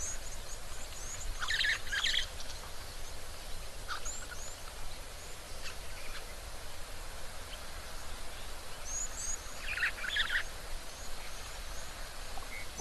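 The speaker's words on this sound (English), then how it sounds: "Little sparrow." A sparrow calling at Rosie's Pan waterhole, a few short high chirps in brief clusters, fairly faint above a steady outdoor hiss.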